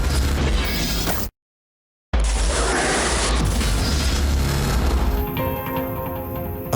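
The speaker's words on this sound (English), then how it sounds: "Explosions don't just happen like that." Loud, dense explosion roar and crashing debris from a documentary soundtrack. It cuts out abruptly into silence for about a second, then the rumble returns and gradually thins out.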